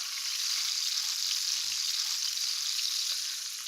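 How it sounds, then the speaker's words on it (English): Onions and tomatoes fry in a pan, giving a steady, even hiss of sizzling that stays close and constant with no voices. "We'll give just a bit of more color to the onions."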